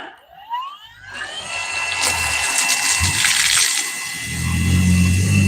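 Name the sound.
Mellif pole pump draining water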